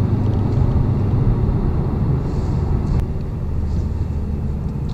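A loud, continuous low engine roar from a rear-wheel-drive sports car with active exhaust valves open rumbles steadily throughout, with a faint click midway.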